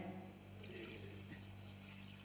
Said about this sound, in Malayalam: ഇതിന് ശേഷം വെള്ളം കൂടി ഒഴിച്ചെടുക്കാം